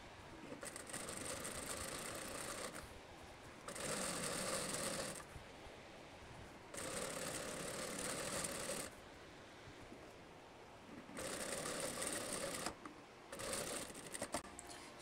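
A sewing machine stitches a skirt seam in steady, even bursts of whirring, stopping and restarting several times with brief quiet gaps as the fabric is turned.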